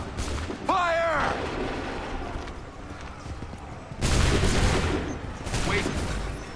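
A musket volley fired in the video game Assassin's Creed III, a sudden loud crackling burst of many shots at once amid battlefield ambience, with shouted voices and horse sounds nearby.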